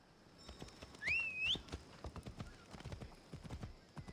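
Horse hooves clip-clop at a steady walking rhythm in Assassin's Creed Odyssey, moderately close, with a short rising whistle partway through and soft game ambience beneath.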